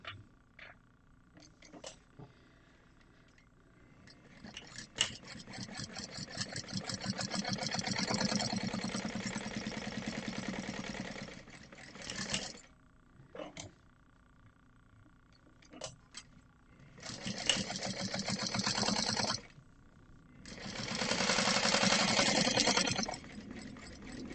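A sewing machine top stitches a dice pouch in several bursts of steady, rapid stitching, some long and some short, separated by quiet pauses, close and clear with no talking.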